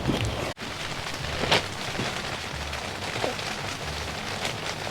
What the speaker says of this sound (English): the rain is actually coming down on the tent right now